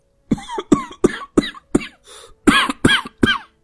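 A run of about nine harsh coughs, close and loud, each separated by a brief pause, with one softer wheezy breath midway.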